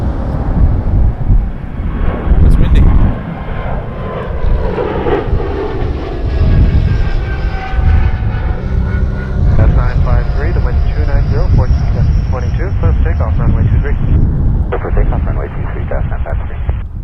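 A Turkish Cargo plane taxis at Toronto Pearson, its engine roar loud and steady throughout with a shifting whine, while a voice talks over it and wind buffets the microphone.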